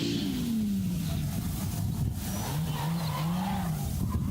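A drift car at a drift series event slides wide with a long, loud tire squeal that falls and rises in pitch over a steady engine roar, heard up close and continuously.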